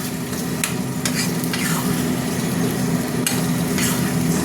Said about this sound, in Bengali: এবার এই চর্বির সঙ্গে এটা কষা কষা হবে মশলা